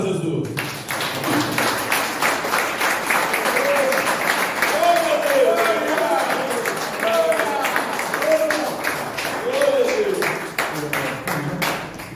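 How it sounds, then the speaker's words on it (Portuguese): Church congregation at a Brazilian Pentecostal communion service clapping steadily in rhythm for about twelve seconds, the claps sharp and continuous, with voices singing and calling out over them. "Palmas para Jesus."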